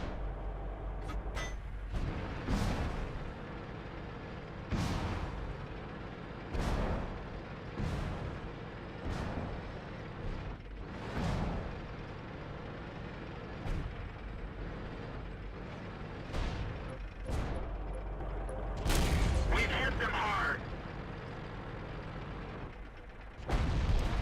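Tank cannon fire in World of Tanks during a heavy tank rush on a beach, heavy booms spaced a few seconds apart over a steady low rumble of engines and battle ambience, with no talking.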